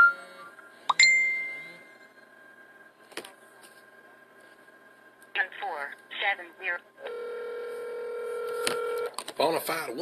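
A telephone is dialed to return a call: a quick run of keypad tones, then a long steady tone and scattered beeps, all close and clear, with a burst of clicks near the end.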